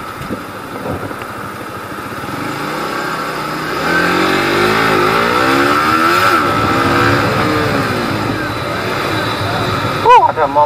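A car passes close by during a ride on a Suzuki Bandit 150 motorcycle, its rising and falling whoosh swelling over the steady engine drone and wind, with a voice talking throughout.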